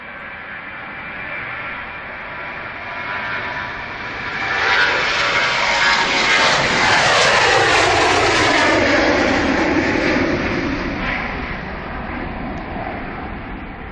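A Ryanair airliner's jet engines roar past on a flight to Valencia at Manchester Airport, swelling from a steady distant rumble to a loud, close sweeping pass around the middle before easing off again, with no talk.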